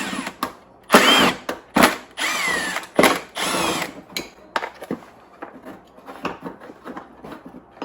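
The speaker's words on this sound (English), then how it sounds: "Let's take these screws out." Power drill removing screws from a golf cart charger on a 48V Falcon Elite during a lithium conversion: several close whirring bursts of varying length with short pauses between them, and no voices.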